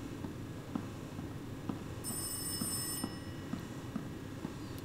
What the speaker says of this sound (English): Alright, I'll answer the phone.